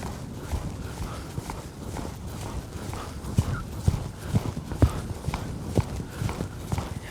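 A horse lopes in an arena, its hooves drumming a steady three-beat rhythm of soft thuds on footing, moderately close and continuous.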